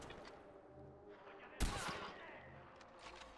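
A single sharp sniper gunshot in the video game Far Cry 4 bursts out midway with a brief decaying echo, over a quiet game background with faint talking.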